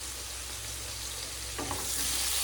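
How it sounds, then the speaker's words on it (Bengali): Cauliflower and potato fry in a pan with a continuous close sizzle over a low hum, and a stirring scrape joins about halfway as the sound grows slightly louder; no speech. "তো দেখুন সুন্দরভাবে এগুলো কপি আর আলুটাকে ভাজা করে নিয়েছি।"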